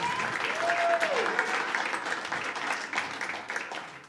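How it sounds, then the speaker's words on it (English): Studio audience applauding on a comedy talk show, a dense sustained burst of clapping filling the whole moment, fairly loud and close. "Let's give a round of applause for them."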